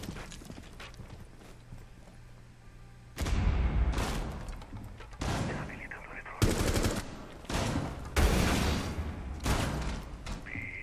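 Bursts of gunfire from Rainbow Six Siege ring out in several loud volleys, sharp rapid shots starting after a quieter stretch and repeating in clusters close by.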